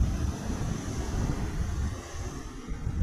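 Rough, high sea rolls and breaks while wind buffets the microphone on a fishing outing, a dense continuous roar with low surges and no speech.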